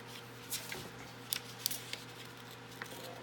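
Paper page torn from a small paper planner, heard as a few short crisp rips and rustles spread across a few seconds, fairly close over a faint steady hum, with no talking.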